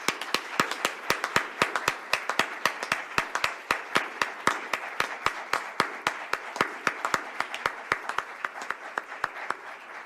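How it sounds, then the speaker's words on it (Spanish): A crowd claps to close a congress on Ignatian leadership, sharp rhythmic claps in a steady, evenly spaced pulse like synchronized clapping, fairly loud over a bright room wash. "tal vez cerremos este congreso con un fuerte aplauso"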